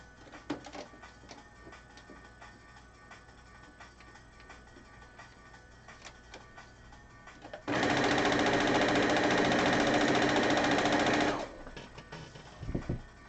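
Sewing machine stitching fabric, a loud steady whirring run of about four seconds after quiet ticks and handling noises, then stopping with a few clicks.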